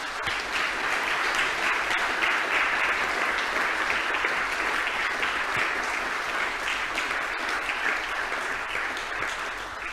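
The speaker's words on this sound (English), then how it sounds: "Ladies and gentlemen, please give them a round of applause." Audience applause at an awards ceremony, a sustained wash of clapping from a crowd, steady and moderately loud for the full length without voices.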